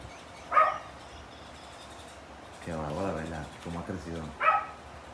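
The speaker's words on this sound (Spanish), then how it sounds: "Qué hermosura ver a tres cachorros jugar." Three puppies yip sharply near the start and again near the end, with whiny, playful vocal noises in between. Faint talking can be heard.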